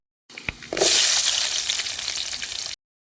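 Loud, steady sizzling of onions frying in hot oil, bursting in after a brief clatter and holding for about two seconds before cutting off.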